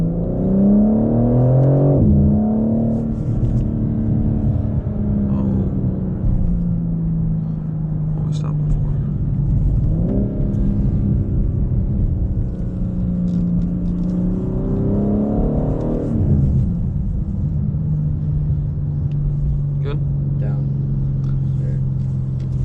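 BMW M4 Competition driven on a short run to a gas station, its engine droning through the cabin and rising in repeated revving pulls between gear shifts, loud and close from inside the car.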